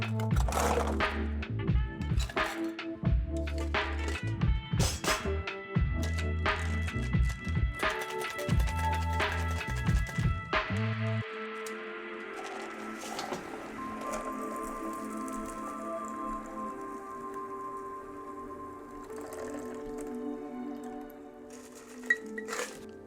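A cocktail shaker full of ice is shaken hard for London Dry gin, giving loud rhythmic rattling bursts for about eleven seconds, then softer clinks and a light pour as the drink is strained.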